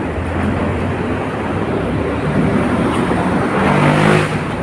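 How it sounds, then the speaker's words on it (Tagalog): Street traffic heard while walking home from work in congested conditions, a steady loud roar of engines and passing vehicles close by, swelling slightly near the end, with no talk over it. "Traffic na, traffic."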